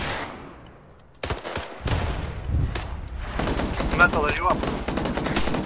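Video game Arma 3 firefight with sharp rifle and machine-gun bursts, close and loud, trading shots in rapid strings while a player calls out over the gunfire.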